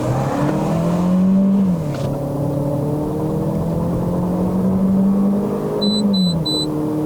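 A Peugeot 508 with a 1.6-litre turbo THP petrol engine drones steadily from inside the cabin under kick-down acceleration, the engine pitch dipping briefly, with a few short electronic beeps near the end.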